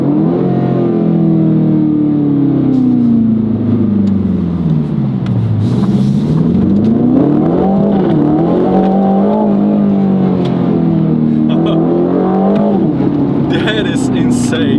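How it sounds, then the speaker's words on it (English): A 2025 Aston Martin Vantage revs loudly and near, its engine pitch sweeping up and down repeatedly, with a few sharp exhaust pops cutting through and someone talking over it. "Like it's coming from the right exhaust pipe, that pop."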